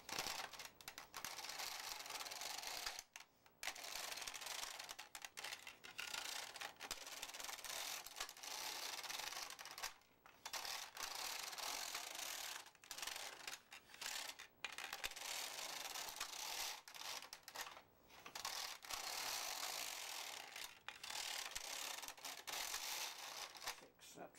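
A knitting machine carriage knitting eight rows of tuck stitch, with continuous rattling, clacking mechanical passes broken by brief pauses, fairly loud and steady.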